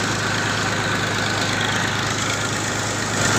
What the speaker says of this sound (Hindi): अभी आपको मैं इसकी रेस दिखा रहा हूँ कि कितने की रेस में ये चल रहा है।